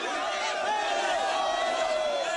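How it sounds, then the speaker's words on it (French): A large, excited crowd of protesters in Abidjan pressing toward French armored vehicles, a dense continuous roar of many voices shouting and chattering at close range without pause. "mais la foule est de plus en plus excitée"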